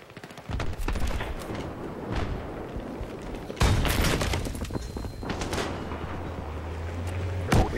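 Battlefield 3 battle din with a tank rumbling close by, then a sudden heavy blast as C4 detonates under it, with gunfire and engine drone continuing after.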